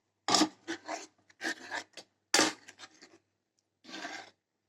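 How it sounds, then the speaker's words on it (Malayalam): A spoon scrapes and stirs banana payasam in a pot, heard as several short, soft rasping bursts with brief quiet gaps between them. "നല്ലതുപോലെ നമ്മൾ ഇളക്കി കൊടുത്തുകൊണ്ടേയിരിക്കണം"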